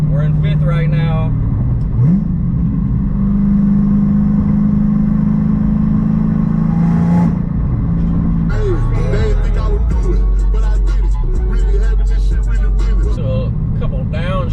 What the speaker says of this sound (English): So a couple downshifts. Sounds good. The burble is nuts.